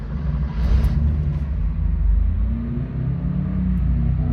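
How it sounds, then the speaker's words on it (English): Air-cooled flat-six of a 1989 Porsche 911 25th Anniversary idling just after a cold start outdoors, a steady loud low rumble with slight swells in revs and no talking. "we're gonna pull it outside right now and do a cold start"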